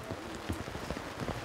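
Rain falls steadily at the Celle Schützenfest 2015, an outdoor marksmen's festival, with a dense patter of drops striking surfaces close by and no voices.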